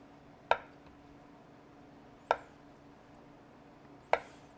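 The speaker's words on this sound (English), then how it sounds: "Now we just want to cut some slices, and we're going to cut small chunks so that we can spread out on our flatbread." A knife chopping food into small chunks on a board for a tomato flatbread, three sharp separate chops evenly spaced about two seconds apart, close and clear against a quiet background.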